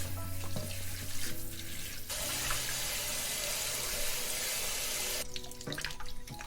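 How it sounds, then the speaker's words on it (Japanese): Root vegetables such as carrot, lotus root and burdock are washed under a running kitchen tap, a steady close rush of water that swells louder for a few seconds midway, with faint handling clatter around it. "最初に全部袋から出して野菜は洗っていきます。"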